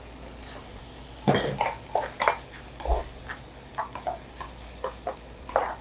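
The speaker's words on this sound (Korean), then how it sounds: "야채가 볶아지면서 토마토 소스랑 같이 맛있는 피자 소스가 되죠" Vegetables stir-fry with tomato sauce in a pan to make pizza sauce. A spatula scrapes and clinks in irregular strokes over a soft sizzle, close by.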